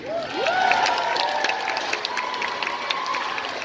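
Audience applause and cheering at a Super Dogs show at the CNE fairgrounds, a crowd clapping steadily at a distance while a rising tonal whistle or squeal sweeps over the top.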